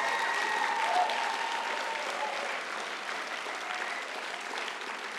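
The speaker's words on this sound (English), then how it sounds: "give yourself an applause for that tremendous effort" Audience clapping at a political talk about Kaua'i, sustained even applause that fades slightly toward the end, with a faint tonal murmur early on.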